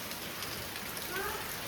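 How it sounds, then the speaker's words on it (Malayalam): Heavy rain falls outside the house, a steady, faint wash of patter heard from indoors, with a brief soft tonal sound over it. "പുറത്ത് നല്ല മഴ പെയ്യുന്നുണ്ട്"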